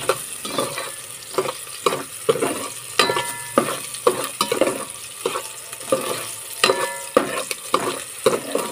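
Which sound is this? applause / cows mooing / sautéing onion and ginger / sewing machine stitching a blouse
sautéing onion and ginger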